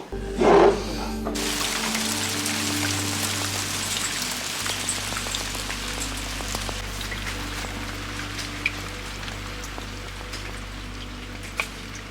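Steady light rain and hail patter on a surface with scattered sharper drops and taps, alongside a low constant hum; a brief louder knock near the start.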